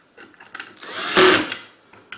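A cordless power drill drives screws on a low torque setting while a Helix 7 DI GPS unit is assembled: one close, short whirring burst that swells and fades, with light handling clicks around it.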